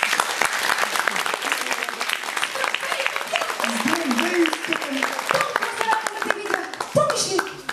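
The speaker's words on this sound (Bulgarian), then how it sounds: "искам да чуя вашите бурни аплодисменти за моят асистент Папионко" Audience clapping at a school Christmas show, brisk applause of many hands filling the room, while someone speaks over it near the end and the clapping thins slightly.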